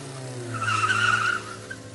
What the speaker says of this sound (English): They also heard a car screeching off.